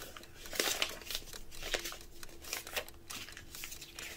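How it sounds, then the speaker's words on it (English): A sheet of paper being folded in half while making a paper airplane, with repeated crisp crinkles and rustles and sharp creasing sounds, close and irregular, over a faint steady hum. "Now fold the paper in half."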